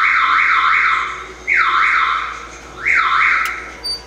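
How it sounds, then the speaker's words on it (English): A siren effect from a PA system in a 1957-60 Ford F100 pickup truck, with three loud rising and falling electronic wails separated by short pauses, heard alone without talk. "We got the sirens."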